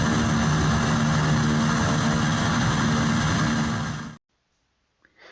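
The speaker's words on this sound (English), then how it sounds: "we stay on and watch all the planes leave" A light private aircraft departs after an air show, its engine droning loud and steady for about four seconds before cutting off abruptly into near silence.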